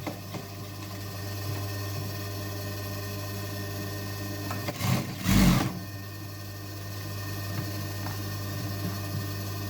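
Sewing machine running on jeans fabric, a low steady mechanical whir with a brief louder burst of rapid stitching in the middle, close and without talk.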